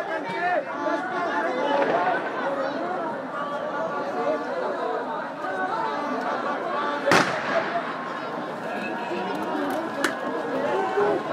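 Firecrackers explode amid a street protest near Plaza Murillo in La Paz, a couple of sharp isolated bangs cutting through the constant chatter and shouting of the crowd.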